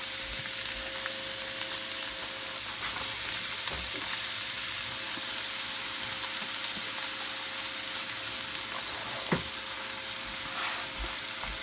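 Shredded cabbage fries for egg rolls in a pan with just a little hot oil, giving off a steady, even sizzle with faint scraping stirs and no talking.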